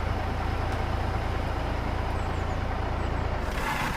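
A steady, loud diesel idle from a Peterbilt 389 truck in Euro Truck Simulator 2, a deep continuous rumble with a brief shift in tone near the end.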